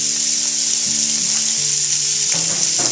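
Bacon sizzling loudly as it fries in a pan for beef bourguignon, a dense steady crackle with occasional pops and light stirring, no voices.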